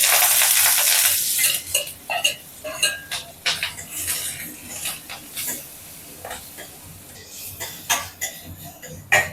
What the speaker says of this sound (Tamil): இப்போ வெங்காயமும் கருவேப்பிலையும் போட்டுக்கலாம்